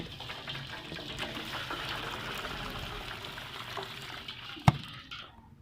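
Hot water poured into a cooking pot to clean pieces of ojri (tripe): a steady gushing pour lasting several seconds, ending with a sharp knock and fading out.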